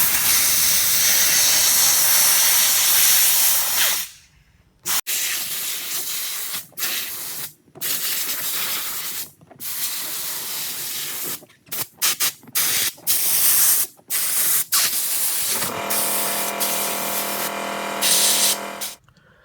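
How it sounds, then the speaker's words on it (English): Compressed air blasts debris out of the seams of a BMW E46 leather seat in loud, broad hissing bursts, some long and some short, separated by brief pauses and running close up with no talk. "I use forced air to get in there and remove it completely"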